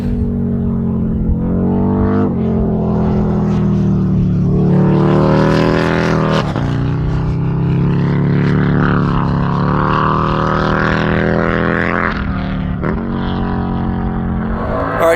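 Harley bagger racing motorcycles run on a race track in the late day, a loud continuous engine roar with rising and falling pitch as bikes accelerate, shift and pass.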